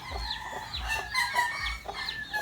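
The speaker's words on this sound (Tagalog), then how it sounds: "yun yung mga manok ni madam." Chickens cluck and squawk repeatedly at close range, several birds calling over each other with a low background rumble.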